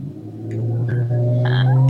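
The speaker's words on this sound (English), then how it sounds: "A car? Yes, I heard it. It's on the podcast now." A car passes by outside, its low engine rumble swelling steadily and growing louder over two seconds, with faint scattered noises in the room.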